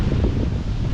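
Strong gusts of wind buffet the microphone, a loud low rumbling roar that fills the whole moment without letup.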